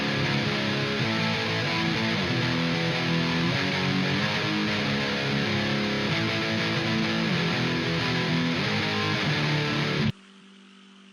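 A heavily distorted guitar plays a chorus at full speed, a dense, loud, steady rhythmic riff that stops abruptly near the end, leaving a faint hum.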